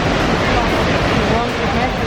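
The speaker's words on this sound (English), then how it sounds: "this is the biggest waterfall I've ever seen." A huge waterfall roars up close in the wild, a loud, unbroken wash of rushing water with some wind buffeting the microphone, steady throughout.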